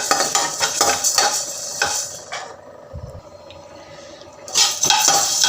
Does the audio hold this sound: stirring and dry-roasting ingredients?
yes